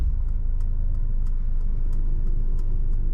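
A 2023 Mercedes-Benz C300 reversing under hands-free parking gives a steady, close low engine and road rumble, with faint regular ticking above it and no voices.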